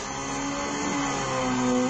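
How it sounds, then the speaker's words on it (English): Car engine revving in the Colin McRae 2.0 rally video game, a steady sustained drone with a held pitch throughout, fairly loud and continuous with no talk. "it lets me gain quite some advantage just panic revving for a bunch of seconds"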